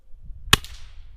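An airgun pellet striking a hanging saw blade outdoors gives a single sharp metallic clank with a short ringing tail, set against faint background noise.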